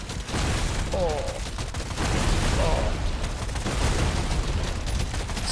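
Exploder enemies bursting in Deep Rock Galactic Survivor make a loud, continuous wash of blasts and rumbling noise over the whole stretch, with faint voice-like tones mixed in.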